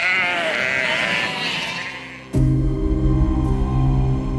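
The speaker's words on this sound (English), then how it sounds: "imagine what it was like with all those sheep" A large flock of sheep on a long overland drive in outback Australia, a dense chorus of many overlapping bleats, loud and close, swelling suddenly after a quieter passage.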